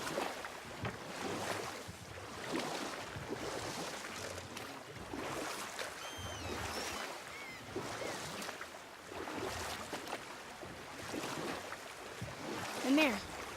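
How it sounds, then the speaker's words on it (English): Rowing a boat across water in God of War (2018), with steady sloshing of oars and water under wind noise, rhythmic swells repeating every couple of seconds, with game characters talking over it at times. "Keep rowing towards the statues of the oarsmen"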